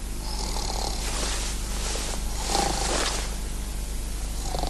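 A man asleep on the floor snores in slow, steady, rasping breaths, repeating several times close by with no other sounds.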